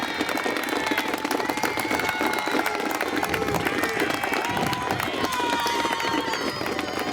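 Graduating police cadets at a Cleveland police academy ceremony applaud their friends and family, a dense, sustained burst of clapping from a large crowd that holds steady throughout.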